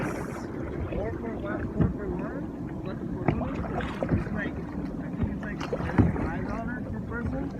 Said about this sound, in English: So we're on the boat.